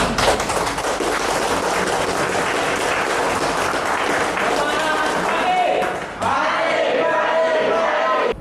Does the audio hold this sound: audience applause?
yes